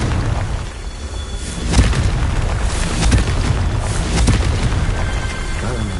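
Confringo fire spell blasts in Hogwarts Legacy as a loud, continuous rumbling roar with several swelling booms about a second apart, dense and close throughout.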